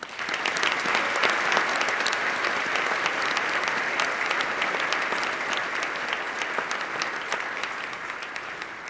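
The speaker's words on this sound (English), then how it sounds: "So let's give them a hand of applause" Banquet crowd at a NASCAR Craftsman Truck Series awards dinner applauds the Speed Channel, a loud, sustained round of many hands clapping with sharp individual claps standing out.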